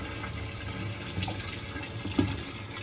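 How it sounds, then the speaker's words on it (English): Walbro 450 fuel pumps run steadily while fuel pours into a jug, making a continuous close liquid rush over a low mechanical hum, with a brief louder splash near the end. "I hear the pumps getting louder in the tank, so the tank must be getting on the emptier side"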